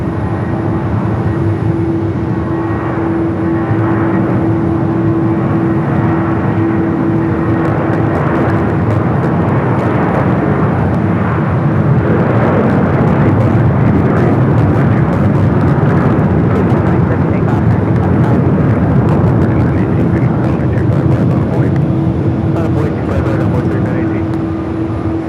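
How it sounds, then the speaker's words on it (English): A Delta Airbus A330 jet airliner roars loudly and continuously, a deep rumbling engine noise with a steady mid tone. The roar swells slightly as it passes close, and faint voices may sit beneath it. "These A330s with Delta, originally delivered to Northwest Airlines."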